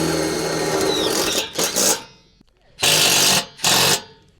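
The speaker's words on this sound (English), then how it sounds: "we'll go ahead and put our second screw in the bottom flange here" A power drill drives a screw into the bottom flange of a high tunnel baseboard: a loud continuous whir that sputters and stops, then two short bursts of drilling close by.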